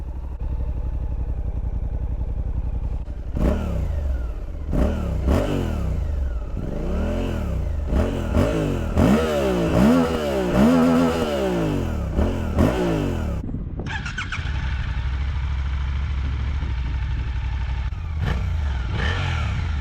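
A Suzuki V-Strom 800DE motorcycle with its stock exhaust starting up and idling nearby, then giving a series of rising and falling revs before settling back to a steady idle, loud and close.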